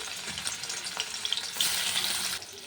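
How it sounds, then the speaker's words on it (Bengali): Cut paneer pieces frying in hot oil for a vegetarian dish, a brief close crackling sizzle with light stirring clicks that swells louder midway before easing, with no talking. "দেখো পনিরটা ভেজে নেবো, পিস পিস করে কেটে নিয়েছি।"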